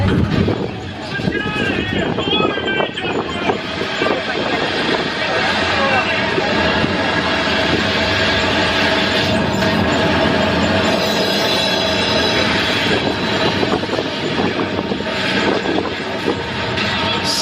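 Train ride on a Universal Studios tour in California, a steady loud rumble of rolling wagons with wheel squeal and rattling running throughout, people talking over it.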